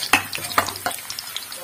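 Ginger pieces dropped into hot oil for a tempering, with a few sharp scraping stirs and short bursts of sizzling, close and fairly loud, fading to a softer crackle.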